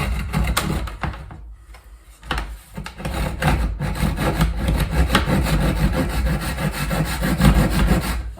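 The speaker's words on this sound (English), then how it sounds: "Still getting used to how saws work" A hand saw cutting through wood held loosely in jaws, a rough, steady back-and-forth rasping that starts hesitantly, pauses briefly, then settles into a loud continuous sawing rhythm.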